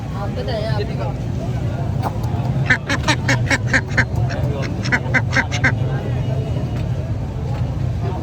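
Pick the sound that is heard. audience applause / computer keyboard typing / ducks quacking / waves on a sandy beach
ducks quacking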